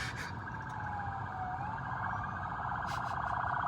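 A wailing siren rises and falls at a moderate distance, over a constant low rumble of traffic.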